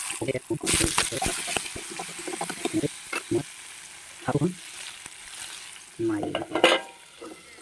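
Vegetables being fried in hot mustard oil in a home kitchen pan, with intermittent scraping and stirring strokes over a soft sizzle, close and uneven in rhythm, while a voice speaks at moments between the strokes.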